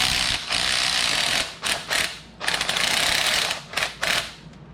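Wrenches work a nut loose on a Ford F-150 truck mount stud during a lift install, producing loud rapid mechanical ratcheting bursts with short pauses between them, close and continuous.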